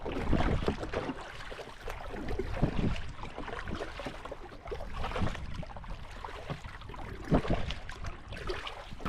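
A heavy DIY wooden punt paddled across open water to an island, with steady splashing and swishing from the paddle strokes. Wind buffets the microphone throughout.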